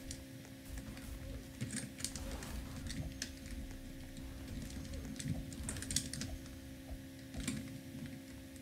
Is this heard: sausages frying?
no